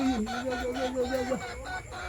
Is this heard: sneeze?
no